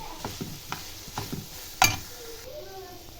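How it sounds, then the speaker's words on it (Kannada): Curry leaves and grated beetroot frying in oil in a pan are stirred with a utensil, giving a quiet sizzle broken by several soft scraping strokes and one sharper clink near the middle. "ಇನ್ನೊಂದು ಸ್ವಲ್ಪ ಫ್ರೈ ಮಾಡ್ಕೊಳ್ಳೋಣ ನೋಡಿ ಕರ್ಬೇವಿನ"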